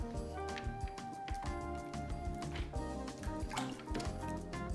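Pork chops dropped into a brine, with soft wet drips and splashes of liquid under background music, continuous and fairly quiet.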